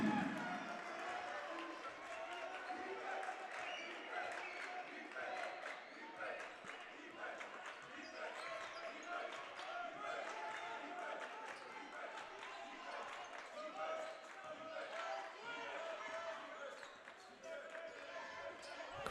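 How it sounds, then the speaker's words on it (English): Arena crowd cheering and clamoring at a college men's basketball game, XULA versus Paul Quinn, after a three-pointer, a dense continuous roar with scattered shouts and bouncing, with a voice talking underneath. "Crowd getting a little bit of energy here"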